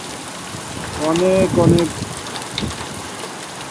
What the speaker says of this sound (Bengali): যেমন বাতাস সেরকম বৃষ্টি, বাতাসের পরিমাণটা বেশি বৃষ্টির থেকে